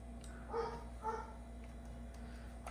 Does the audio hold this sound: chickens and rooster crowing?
no